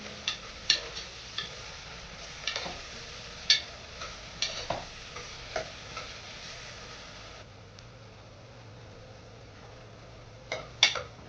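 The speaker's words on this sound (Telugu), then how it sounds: "గోల్డ్ కలర్ వచ్చే వరకు వేయించుకోవాలి." Sliced onions with salt frying in a pan for prawn biryani, a soft steady sizzle punctuated by scattered clicks and scrapes of stirring, close and fairly quiet with no talking.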